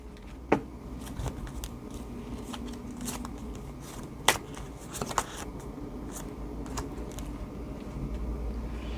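Tarot cards being drawn and laid down during a quiet reading, a few sharp isolated card snaps and soft shuffling touches over a low, steady background hiss.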